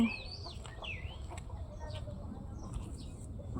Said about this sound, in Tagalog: Ang dami kong manok.